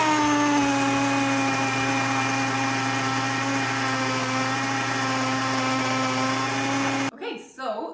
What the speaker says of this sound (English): So I'm just going to show you how to grind wheat.